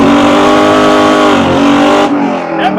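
A car engine revs hard in second gear at a road-trip car festival, a loud, dense harmonic roar that holds steady for about two seconds before easing off, with brief voices near the end.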